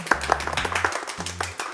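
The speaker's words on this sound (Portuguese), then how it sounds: "Palmas." A few people clap close by to celebrate a YouTube channel reaching three million subscribers, sharp sparse claps in a loose rhythm over a low steady hum.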